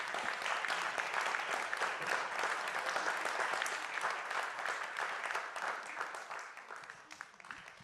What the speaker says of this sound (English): give a round of applause to the President